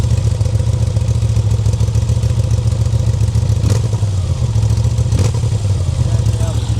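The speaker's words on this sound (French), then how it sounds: "Et même le son moteur, ça ronronne mieux que le moteur d'origine" A 2025 Moto Guzzi V7 Sport engine idles loudly and close through an aftermarket exhaust, a deep steady throbbing burble with a couple of brief clanks partway through.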